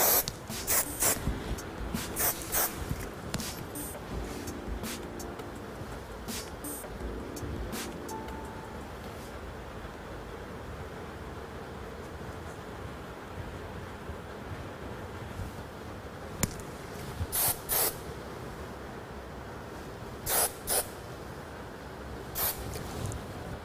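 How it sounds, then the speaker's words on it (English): Hairspray from an aerosol can is misted over set hair in several short hissing bursts, close and fairly quiet, with soft handling noise and pauses between sprays and no talking. "And I'm just going to use some hairspray. Lift it up, spray it,"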